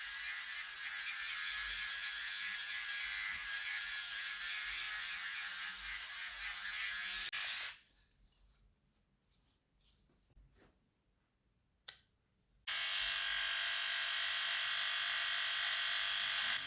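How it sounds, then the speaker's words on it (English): Silvercrest SRR 3.7 C3 rotary shaver with its pop-up trimmer running on sideburns: a steady, close electric buzz that cuts out for several seconds, leaving near silence with a sharp tick, then resumes at full strength. "the pop-up trimmer is doing a good work trimming my sideburns"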